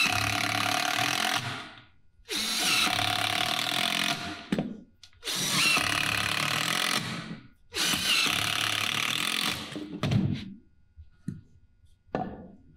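A power drill drives 1 5/8 inch screws through three-quarter-inch material into the legs of a stage platform, four long loud whirring bursts with short pauses between, followed by a few brief clicks and taps.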